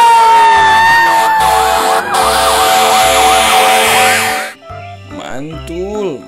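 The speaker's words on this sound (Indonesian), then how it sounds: "Wadidaw, truk pemadam kebakaran." A fire truck siren wails loud and close, cycling through a rapid warbling tone over a steady pulsing horn pattern, then switching to a different sweeping siren pattern near the end.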